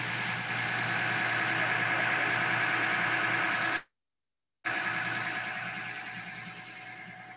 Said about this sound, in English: you can hear the engines now, Greg, I'm sure.